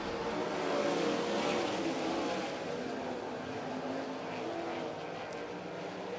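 Sprint car racing with 360 engines, a continuous blend of several cars' roaring engines heard from the stands over a steady crowd-and-track wash, with an announcer's commentary mixed in.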